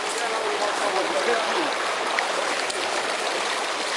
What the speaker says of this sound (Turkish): Gördüğünüz gibi bu su buradan oldukça çok çıkıyor.